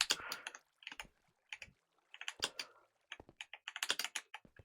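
Close, crisp typing on a computer keyboard comes in quick uneven bursts of clattering keystrokes, with short pauses between runs.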